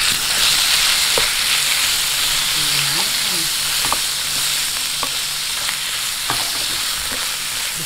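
Chicken pieces frying in a hot pan and being stirred, a continuous loud sizzle and hiss broken by scraping and clinks of the utensil against the pan.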